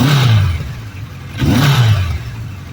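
A classic Kawasaki LTD motorcycle engine running, rising in two revs separated by a brief dip, loud and close with a rough, steady low tone.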